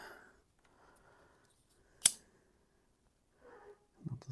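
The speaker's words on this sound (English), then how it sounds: "Now those bits are ready to cut off." Scissors close with a single crisp, sharp snip, cutting off the ends of binding, heard near and alone amid near silence with faint handling rustles around it.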